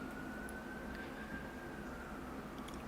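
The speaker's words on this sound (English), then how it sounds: "Oh, I hear sirens in the background." A distant siren wails faintly and steadily in the background, its tone sliding slowly across a few seconds.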